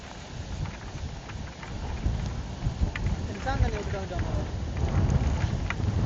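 A violent storm lashes the Pannai coast of Jaffna with strong wind and rain, making a continuous roaring wash with gusty swells and scattered rumbles; a voice is briefly heard partway through.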